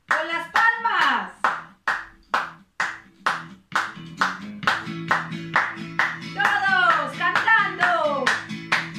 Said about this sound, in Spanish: ¡Con las palmas!